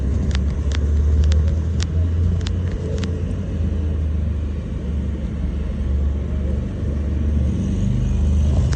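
A hypercar drives away along a Monaco street as a continuous low engine rumble with a few sharp ticks and clicks near the start.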